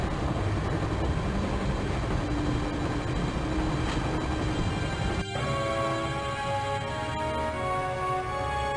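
A train runs in the Broken Sword video game, a steady loud rumble with rolling rail noise, shifting near the middle into sustained tonal whining and screeching.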